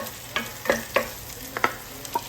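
Onions and ginger sauté in a pan with a light sizzle, while a spatula scrapes through them in several quick, close strokes at an irregular rhythm.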